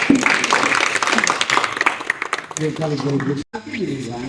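An audience bursts into loud, dense applause that fades after a few seconds, giving way to a voice speaking.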